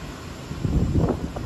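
Cold, dry evening wind blows outdoors in the USA, buffeting the microphone in a low, rumbling rush that swells briefly toward the end.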